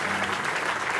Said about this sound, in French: Et donc nous pouvons nous applaudir les uns et les autres pour cette belle réussite.